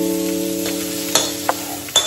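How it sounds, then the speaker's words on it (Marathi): Cluster beans stir-fried in an oil-filled pan give a steady soft sizzle, broken by a few sharp spatula scrapes and clicks near the end. "गवारी बऱ्यापैकी परतून झाली आहे"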